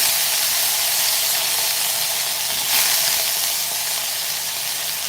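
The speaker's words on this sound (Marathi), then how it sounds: "आता आपल्याला हे बटाटे जे आहेत ना ते सर्व परतून" Potatoes sautéing in a little oil in a pan for cauliflower-potato bhaji, a loud, steady, dense sizzle with one brief swell midway, no voices.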